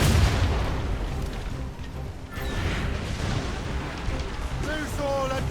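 Ship cannons fire in the Assassin's Creed Rogue naval battle, heavy rumbling booms layered over a continuous roar of wind and sea, with voices shouting orders through the din.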